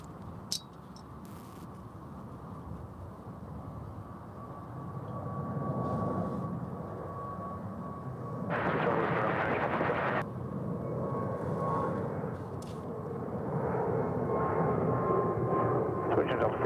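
A jet airliner takes off at DFW airport, its broad engine roar building and swelling over several seconds while radio chatter and voices talk over it.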